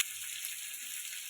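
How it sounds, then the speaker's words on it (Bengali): Chopped tomato and green chilli sautéing in a pan, a faint steady hiss of frying heard alone at a distance. "খুব ভালো করে কষিয়ে নেব"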